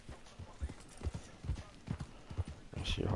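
Video game horse hooves clip-clopping in an even, rhythmic walking gait, each thud distinct and fairly close, with a brief burst of noise at the end.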